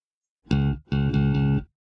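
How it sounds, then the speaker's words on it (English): Two clean, sustained electric bass notes, a short one then a longer one, played alone with no distortion. "I have a bass which sounds like this."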